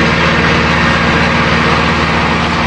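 Tractor engine running steadily at close range, a loud, continuous low rumble with a constant drone and no breaks or pauses.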